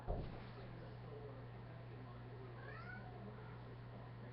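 A soft meow from a big cat stands out faintly over a constant low electrical hum, heard once in an otherwise quiet room.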